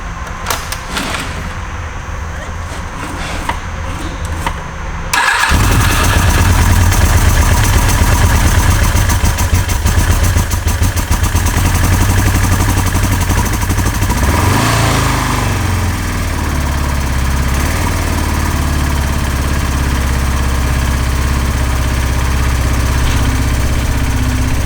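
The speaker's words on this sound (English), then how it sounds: "Fires up and it idles, kind of." A 1980s sport motorcycle engine cranks and fires up, then settles into a loud, close, uneven idle that wavers and surges slightly, with a few clunks before it starts.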